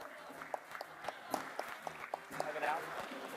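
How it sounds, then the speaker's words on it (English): An audience at a professional eye-care seminar gives a brief round of applause for the teams, a soft wash of clapping with a voice speaking over it. "And again, round of applause for our teams here."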